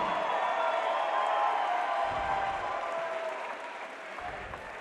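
A crowd at a live fight event applauds and cheers for two fighters after a TKO win, with steady, dense clapping and some whoops throughout, fading slightly toward the end.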